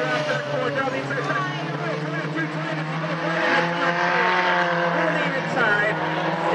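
Race cars roar through a corner on a racing track during a main event, engines droning loud and continuous under an announcer's commentary.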